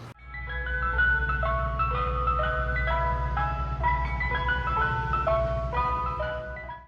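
A tinkling ice cream truck jingle plays its melody continuously, bright and clear over a low engine rumble, with no talking.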